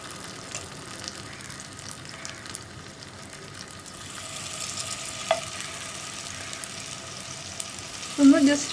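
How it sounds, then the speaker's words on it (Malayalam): Marinated paneer pieces go into hot sunflower oil in a pan, setting off a soft, steady frying sizzle that builds in the second half, with a louder burst of spatter near the end. "ഇതിലേക്ക് നമ്മൾ മാരിനേറ്റ് ചെയ്ത് വെച്ചിരിക്കുന്ന പനീർ പീസുകൾ ഇട്ട് കൊടുക്കുക."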